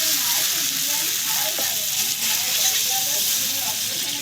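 Spiced potatoes and drumstick pieces sizzle steadily in a pan for a thin rohu fish curry, a dense, even frying hiss that continues unbroken from start to finish.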